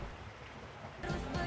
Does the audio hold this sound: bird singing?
no